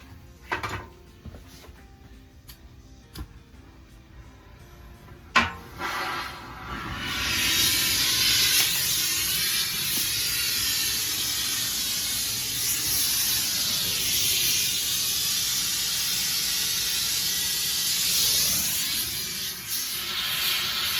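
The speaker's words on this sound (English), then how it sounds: "I'm holding the crucible in place with the torch" A torch flame hisses steadily while melting casting metal with flux in a crucible, starting after a few sharp knocks and clicks and then holding as a loud continuous roar.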